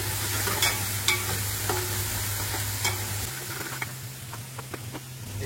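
Ginger-garlic paste fries in a pan for bhuna khichuri, giving a steady close sizzle broken by a few sharp spatula scrapes and taps while it is stirred, with no talking.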